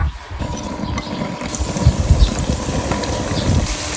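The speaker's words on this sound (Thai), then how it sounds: "มาทอดข้าวโพดกันนะคะ" Corn fritters frying in hot oil in a home kitchen, a steady crackling sizzle with bubbling bursts that swell louder midway, no voices over it.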